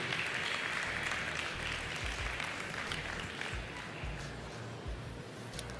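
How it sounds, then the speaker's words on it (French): An audience at an agricultural show applauds a cattle breeder in a large, echoing hall, with dense, sustained clapping spread wide, steady and fairly loud, under a low rumble from the venue. "je voudrais qu'on applaudisse Maxime"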